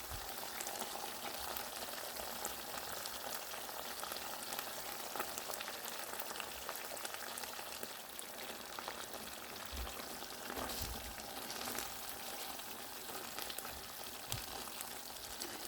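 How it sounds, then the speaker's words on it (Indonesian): Squid tentacles frying in a pan for Padang-style gulai, giving a continuous dense sizzle and bubbling that runs steadily throughout, moderately loud and close, with no voices. "Nah ini kita masak sampai cuminya benar-benar matang ya teman-teman ya."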